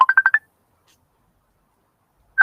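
A quick run of five telephone dialing tones sounds close and clean, then silence, then one more tone at the end, during a live online open mic broadcast.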